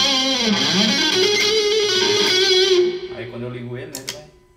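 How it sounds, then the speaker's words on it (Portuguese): Distorted electric guitar through a Line 6 HX Stomp pedalboard, loud sustained chords and a bending note ringing for about three seconds, then cutting off into quieter decaying picking and a few sharp attacks. "Esse aqui é o som da distorção que eu vou ter"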